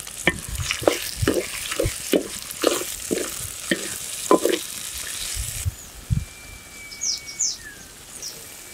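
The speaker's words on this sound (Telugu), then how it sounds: "ఇవన్నీ వేసినాక నూనెలో 5 నిమిషాలు వేగించాలి." Chana dal and seasonings fry in hot oil with a steady sizzle, broken by repeated scraping stirs of a spoon against the pan; birds chirp faintly outside toward the end.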